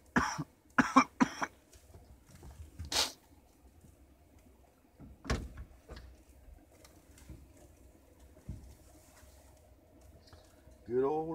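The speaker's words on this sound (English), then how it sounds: "I still got my lingering cough every once in a while." A man with a lingering cough hacks a few times in quick, close bursts early on, then again once or twice later, with faint bird cooing and quiet background hum in between.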